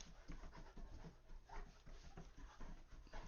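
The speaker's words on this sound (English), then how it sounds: "I think my dog has phantom tail." A dog pants rapidly and rhythmically while chasing its tail indoors, the quick breaths close by and faint, with a slight whimper.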